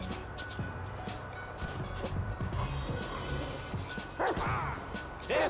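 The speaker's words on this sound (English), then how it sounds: "There's a good dog." A dog barks in Grand Theft Auto V gameplay, short yips scattered over game action noise with a couple of louder bursts near the end.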